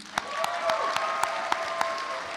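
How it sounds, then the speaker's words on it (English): Convention panel audience clapping for a voice actress, a dense clapping wash punctuated by a few sharp individual claps close by, with a faint tonal whistle-like sound running under it. "So how about a round of applause for Arlene?"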